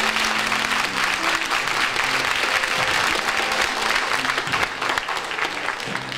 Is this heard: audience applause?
yes